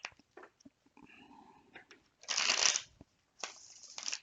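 Tarot cards being shuffled by hand up close, in two distinct riffling bursts with a short pause between them, preceded by quieter handling and a faint murmur.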